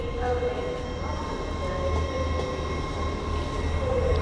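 An LNER Azuma Class 801 train, unit 801-209, departing York station: a loud, steady rail rumble with faint wheel squeal and electric whine, heard close by, with some voices faintly in the background.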